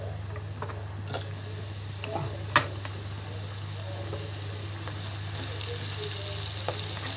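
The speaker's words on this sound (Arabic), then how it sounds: "اقوم حاطه ايه البصل يحمر اهو. الزيت سخن" Onions fry in hot oil for an Egyptian koshari. A close, busy sizzle runs steadily over a low background hum, with a few sharp clicks and taps from the pan.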